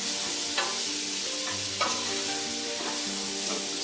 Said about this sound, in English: I'll stir this around. This is going to get some of the crispy stuff off the bottom.